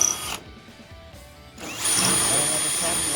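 A power drill cleans out spot weld holes in an early Ford Bronco windshield frame, whining steadily up close, then cutting out briefly before revving again, with talk over it.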